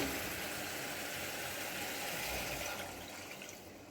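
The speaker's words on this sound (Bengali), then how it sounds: "এবার আমি এর মধ্যে জল দিয়ে দেব" Water pours into fried masala in a pan for a Bengali katla fish curry, a steady rushing hiss and sizzle that holds for about three seconds before tapering off.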